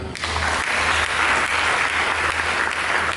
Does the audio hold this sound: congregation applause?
yes